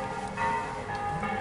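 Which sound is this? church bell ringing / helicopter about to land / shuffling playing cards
church bell ringing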